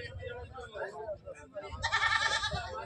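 A goat bleats loudly and close at a livestock market, a wavering cry near the end that comes after a voice talking over low crowd murmur.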